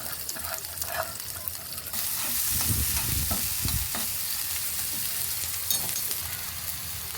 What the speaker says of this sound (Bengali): এখন হচ্ছে আমি তেলে ফ্রাই করে ফেলব সরিষার তেল দিলাম পেঁয়াজ রসুন আর হচ্ছে কাঁচামরিচ কুচি